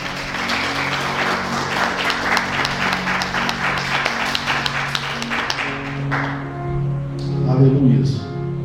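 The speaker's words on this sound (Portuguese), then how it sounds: "Pode dar uma salva de palmas ao Senhor." A church congregation breaks into full, sustained applause, dense and loud, with voices mixed in and the clapping thinning toward the end as music or talk takes over.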